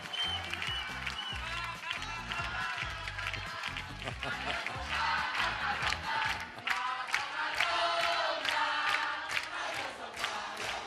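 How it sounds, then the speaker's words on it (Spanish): An audience gives sustained applause for a theatre director, dense and steady clapping with cheering and crowd voices running throughout at a fairly loud level. "un aplauso para a directora"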